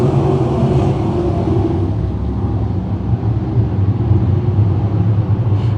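602 crate sprint cars racing down the back straightaway at Can-Am Speedway, a loud continuous engine roar with steady low rumble throughout.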